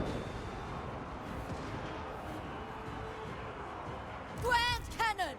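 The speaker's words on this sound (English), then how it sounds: "Grand cannon." A grand cannon fires in a Total War Warhammer 3 battle, heavy booming artillery over a dense rumbling battlefield din, with a sharper burst and crackling near the end.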